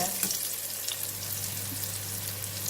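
Pork for sweet and sour pork fries in a pan with carrot and ginger, giving a continuous close sizzle over a low steady hum, with no talking.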